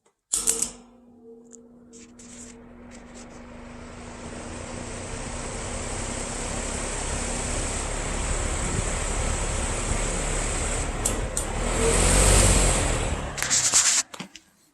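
Steady airflow hiss from a Patton 20 inch high velocity fan on low speed, with a soft motor hum beneath it. A few brief clicks and knocks come near the end, and no one talks.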